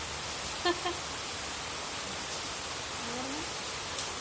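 Steady rain falls on a garden, making an even, hissing wash that fills the whole clip, with a brief faint chirp and a soft tone over it.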